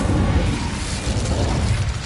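The Incendio fire spell erupts in Hogwarts Legacy, a loud, dense, roaring burst of flame with crackling, rumbling texture that holds for about two seconds.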